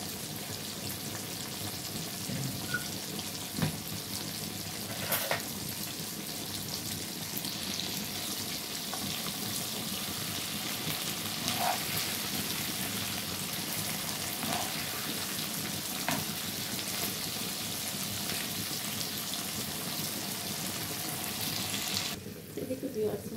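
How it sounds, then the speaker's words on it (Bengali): Boal and hilsa fish frying in a pan, a steady, even hiss of hot oil with a few faint clinks, continuous and moderately close. "এদিকে বিয়ার আমি মাছ ভাজিটা করে নিলাম। সাথে বোয়াল মাছ আছে 2 পিস"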